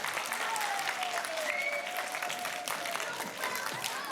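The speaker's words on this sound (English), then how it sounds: "Please give a big round of applause to Mr. Christie" Audience applause for author-illustrator R. Gregory Christie at a Black Children's Book Week library event, a steady dense roar of clapping from a crowd that holds evenly through the whole stretch with faint voices mixed in.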